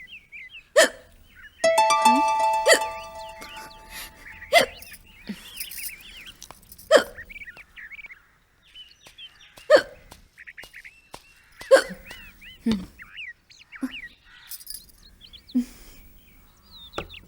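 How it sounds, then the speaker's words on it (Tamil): A person hiccups repeatedly, each one a sharp, brief gulp spaced a couple of seconds apart across a quiet room, with some faint background clatter early on and no speech. "விக்கல் வந்துட்டே இருக்குல்ல, தண்ணி குடிக்க வேண்டியதானே?"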